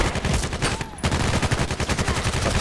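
A PDR-C submachine gun in Contract Wars rattles off rapid automatic fire in fast continuous bursts, with one brief pause near the middle, loud and close.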